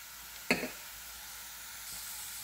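Kashmiri red chili powder dropped into hot oil for cheese pasta gives one sharp, brief sizzling burst, then a faint, even hiss that continues quietly.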